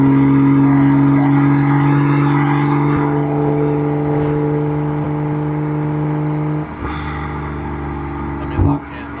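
BMW M340i with its B58 engine heard from inside while driving, a steady loud drone with tonal engine harmonics that shifts and drops around the seventh second, with a brief thump near the end.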